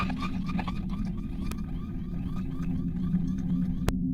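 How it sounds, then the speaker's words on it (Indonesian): A house alarm goes off with a steady, loud, continuous wail that repeats in a rising and falling pattern over a low hum throughout. "alarm rumah pun menyala"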